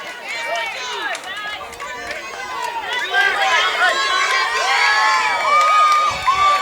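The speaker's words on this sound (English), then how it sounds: "Lots of loud fans around here cheering on their teams." Loud crowd of fans cheering and shouting at an 8U youth baseball state final, with children's voices whooping over a steady roar that swells toward the end, continuous throughout.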